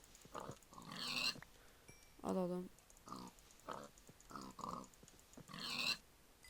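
Pigs in the video game Minecraft give several short, nasal oinks and grunts spaced through the clip, close and fairly loud, alternating with a person talking.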